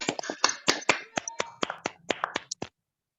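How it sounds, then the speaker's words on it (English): Scattered clapping from participants in an online Toastmasters club meeting, about a dozen separate sharp claps in an uneven rhythm that stop abruptly, leaving silence. "Please, everybody, unmute and give her a huge round of applause."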